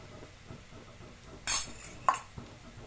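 Cooked rice with a little salt and pepper is mixed in a pan for mutton fried rice, with soft scraping and a few distinct clinks of utensil against metal; no talking.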